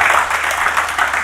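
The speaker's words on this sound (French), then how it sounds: "je vous prie de faire une fois de plus un tonnerre d'applaudissements à Dr." A crowd's brief burst of thunderous applause for Dr. Moumi de Bakondji at a talk on success, dense and loud throughout.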